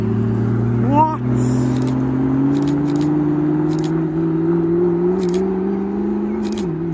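Two McLaren P1 hypercars rolling in to a car meet, a steady low engine drone holding throughout with a slight rise in pitch, close and loud, while excited voices react over it.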